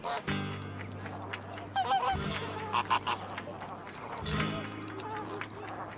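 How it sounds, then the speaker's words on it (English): Flamingos calling in the Atacama Desert, a cluster of honking, goose-like cries rising over a dense, continuous wash of flock noise, with louder bursts of calls near the start and middle. "Both the James and Andean flamingos strain the water for the tiniest microorganisms"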